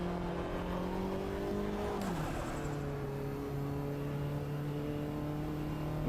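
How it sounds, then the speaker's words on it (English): A front-wheel-drive Mini John Cooper Works race car in Automobilista 2 at Kyalami holds a loud, steady engine drone, the pitch dropping sharply as it brakes for a hairpin and then settling into a constant tone. "We're drifting in a front-wheel drive Mini through the hairpin."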